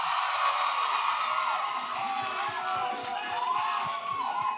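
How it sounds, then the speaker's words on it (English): A large crowd at a Formula 1 Australian Grand Prix fan event cheers for McLaren driver Lando Norris, a steady roar of whoops, shouts and whistles that stays loud throughout with no break. "Give Lando a big cheer as well."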